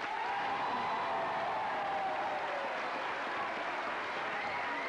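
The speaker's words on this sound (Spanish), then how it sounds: "toda la tribuna aplaude de pie" Sustained applause from a large television studio audience giving a standing ovation, dense and steady clapping that fills the whole stretch without pause.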